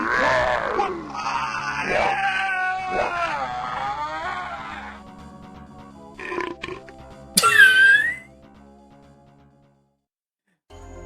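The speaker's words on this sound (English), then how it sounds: "The little burp just to top it all off is freaking great" A long, gurgling burp rumbles for several seconds in The Ur-Quan Masters video game. Shorter grunting and squealing effects follow before the sound fades to silence.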